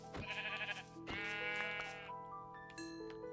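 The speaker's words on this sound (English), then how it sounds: "Oh, there's a sheep." A Minecraft sheep bleats twice in a row, each call loud, close and wavering, followed by a brief tail of softer game sounds, with no talking.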